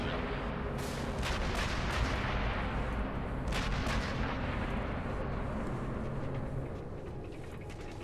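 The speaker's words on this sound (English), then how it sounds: "just a few moments ago there was so much gunfire that you could hardly hear yourself think" Heavy gunfire in Sniper Elite V2, a rolling barrage of booming shots and blasts that runs continuously, with sharper cracks standing out near the start and middle before easing slightly at the end.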